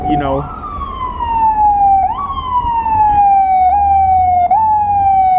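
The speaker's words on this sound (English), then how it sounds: "Another ambulance." A wailing siren rises and falls in repeated sweeps, loud and close, over low traffic rumble, with a brief engine-like burst at the start.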